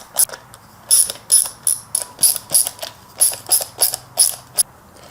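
Ratcheting screwdriver clicking as screws are driven into the plastic backing of a pod-light step kit for a 2019-2024 Chevrolet Silverado or GMC Sierra: about a dozen close, crisp, evenly spaced ratchet clicks.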